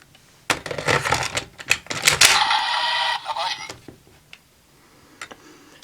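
A plastic click and rattle as a card is inserted into a Yoku Shou Ken DarkVisor Zwei toy visor, then a bright, buzzy electronic 'survive' sound effect lasting about a second, followed by a few faint clicks.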